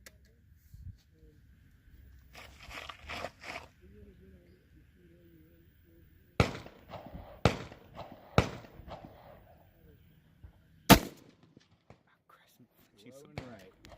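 Gunshots at a shooting range ring out as a few sharp, loud reports spaced several seconds apart, with people talking quietly between the shots.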